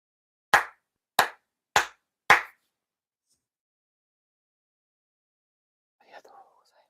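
Four sincere hand claps ring out at a Shinto ceremony in Chula Vista, sharp and evenly spaced in a quiet room, followed after a pause by a faint murmuring voice.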